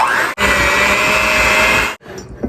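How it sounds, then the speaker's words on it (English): An electric mixer beats eggs into creamed butter and sugar for red velvet cake batter, with a loud steady motor whir that cuts out briefly twice. "we're going to add in our eggs one at a time, beating after each addition."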